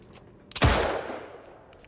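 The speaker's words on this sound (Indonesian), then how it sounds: "Kid tiba-tiba mengeluarkan pistol dan menembaknya." A single sharp gunshot cracks out, followed by a long fading echo against a quiet background.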